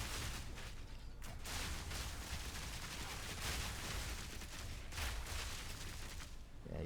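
Grenade cluster bomb and mortar cannon explosions in Path of Exile 2, a continuous barrage of booms and blasts with sharp bursts throughout, quite faint overall.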